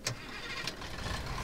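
A car engine running in the video game Far Cry 2, a steady mid-level rumble with brief sharper bursts near the start and middle, heard alone without talk.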